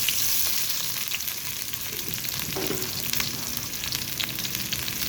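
Onion frying in oil on a hot tawa for street-style kaleji masala, producing a loud, continuous, close crackling sizzle with light scraping now and then and no talking.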